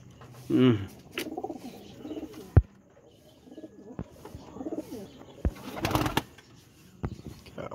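Pigeons kept by a fancier coo close by, a throaty burst early on and softer coos later, among scattered knocks, fluttering and people talking.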